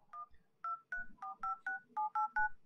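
Touch-tone keypad dialing on a Feiteng H9500, an MT6589 quad-core Android Samsung S4 clone: about nine crisp, evenly spaced beeps pressed in quick succession with no voices.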